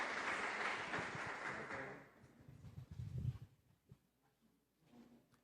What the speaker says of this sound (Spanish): les pedimos un fuerte aplauso para que se vaya animando